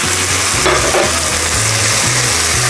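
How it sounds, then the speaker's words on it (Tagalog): Kimchi stirred in a hot frying pan for kimchi fried rice, a steady loud sizzle running throughout with repeated scraping strokes of the utensil against the pan. "Stir lang po natin ang ating kimchi ng mga 1 to 2 minutes"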